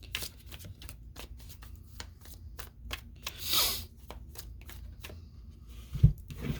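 Tarot cards shuffled and drawn, a quick run of crisp card flicks and riffles close up over a low background hum, ending with a soft thump.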